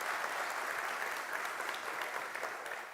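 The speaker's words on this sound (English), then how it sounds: "Is that applause for my pronunciation?" A crowd at a university research and innovation awards ceremony applauds, a steady wash of clapping from many hands, fairly distant and even, sustained for the whole stretch without speech.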